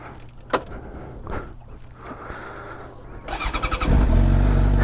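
A Suzuki GSX-R 750 motorcycle fitted with a turbo exhaust whistle starts off riding, with clicks and a rising engine note building into a loud, steady roar with whistling overtones toward the end.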